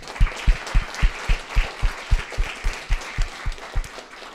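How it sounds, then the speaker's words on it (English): Rhythmic clapping honours sponsors and media at a hackathon awards event, regular strong claps about two per second with a lighter crowd patter underneath, no talking. "So a big round of applause,"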